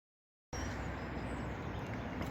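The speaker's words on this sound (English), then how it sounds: "Apologies for the background noise of the cars." A steady wash of passing car traffic rumbles in the background, broad and continuous after a brief silent start.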